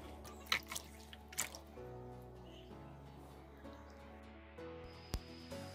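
Cut raw papaya pieces being washed in a bowl of water, giving soft sloshing and a few distinct drips and splashes against a steady low background hum.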